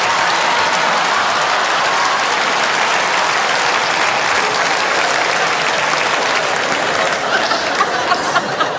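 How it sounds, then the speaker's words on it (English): A large comedy festival debate audience bursts into loud, sustained applause, dense clapping filling the room with a few chuckles and crowd murmurs mixed in, easing slightly near the end as individual claps stand out. "I'll give them a round of applause."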